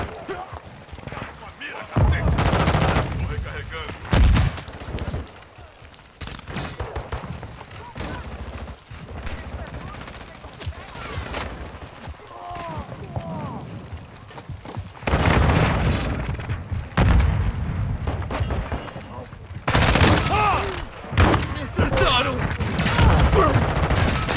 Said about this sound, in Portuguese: Jogando granada!